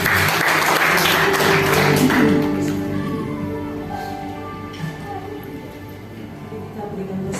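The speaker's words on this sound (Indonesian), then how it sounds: "Berikan tepuk tangan untuk kemuliaan." A church congregation applauds, a dense wash of clapping that swells loud at first, then thins and fades over several seconds.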